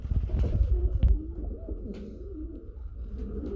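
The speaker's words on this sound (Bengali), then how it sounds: "ডাকতেছে তো দেখতেছে, এটা শোকিং কবুতর, হোয়াইট শোকিং" A pair of White Shoking pigeons coo in a loft, a close, fairly loud run of throaty calls with some rustling thumps near the start.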